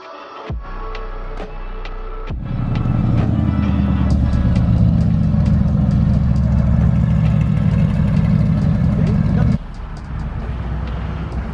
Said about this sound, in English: How the hell did Wes end up on a motorcycle?